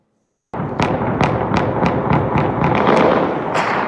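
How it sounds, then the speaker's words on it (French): After a moment of silence, a rapid, loud string of sharp explosive bangs and thuds from bombardment in Sudan erupts, repeating roughly every third of a second. "Sous les bruits des bombardements et des explosions"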